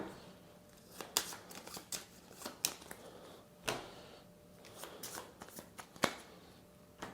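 Cards for the Votes For Women board game are shuffled close up in quiet, with rapid crisp riffles and taps in irregular bursts.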